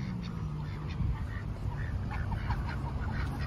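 Ducks quacking near a duck house by a road in North Carolina, repeated short quacks over a steady low rumble of outdoor noise.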